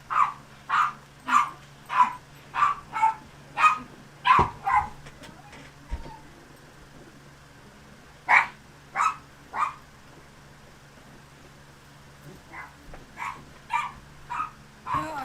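A dog barks loudly in a rapid series of sharp barks, pauses, then barks again in shorter bursts that fade to quieter yips near the end; there is no talk over it.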